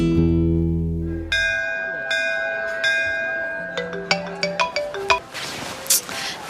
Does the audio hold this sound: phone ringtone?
yes